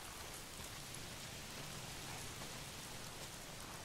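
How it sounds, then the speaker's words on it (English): Steady rain pours down in the video game Days Gone, set in rainy Portland, a dense continuous hiss of drops on surfaces with no voices, evenly loud throughout. "Why is it always raining?"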